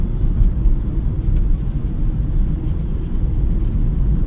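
The three-cylinder engine of a 2025 Suzuki Dzire Hybrid, heard from inside the cabin while driving, gives a loud, steady low drone that continues without a break and without voices.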